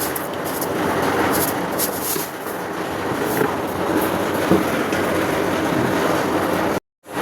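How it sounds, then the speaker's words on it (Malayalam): A loud, steady motor whir of a mixer grinder blending java plum juice with sugar runs for several seconds, then cuts off abruptly near the end. "ഒന്നും കൂടി മിക്സിയിലേക്ക് ഇട്ട് അടിക്കുക"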